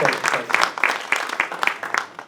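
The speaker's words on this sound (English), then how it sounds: "I think that deserves a round of applause." An audience at a film festival talk with a horror artist claps in a short, uneven round, individual hand claps popping through a murmuring crowd.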